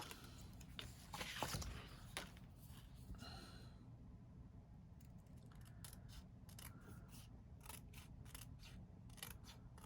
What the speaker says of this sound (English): So I'm going to cut this little border off.